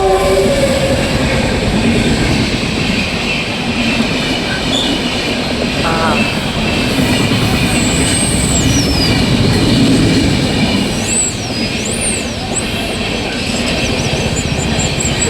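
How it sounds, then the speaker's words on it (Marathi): A train pulls into a station, its wheels squealing in high wavering bursts over a steady, loud rolling rumble that fills the whole stretch; a voice briefly says a single word. "तर ट्रेन आलेली आहे असं वाटतंय."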